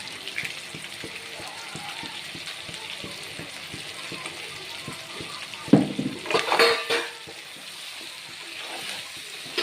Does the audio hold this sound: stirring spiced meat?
yes